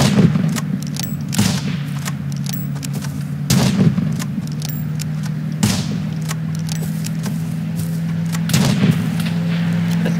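Gunfire in the video game Rust: loud, heavy booming shots at irregular intervals, with several close bursts over a low rumbling background.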